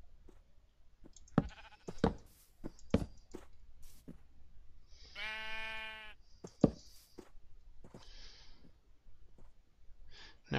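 A single sheep lets out one clear, drawn-out bleat midway, close by and fairly loud, surrounded by scattered knocks and clicks in an otherwise quiet space.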